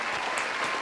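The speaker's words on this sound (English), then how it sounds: "Give a round of applause" A brief burst of dense, even clapping sounds like a round of applause, loud and close, lasting under a second.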